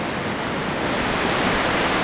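Sea waves wash in around a tripod on a beach by a breakwater, a loud, steady broadband rush of surf close to the microphone with no pauses.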